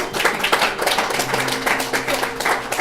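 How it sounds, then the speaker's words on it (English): A crowd applauds at a women's awards ceremony, loud, close clapping from many hands with a continuous dense texture and a faint low hum running underneath. "Give a round of applause for Emma"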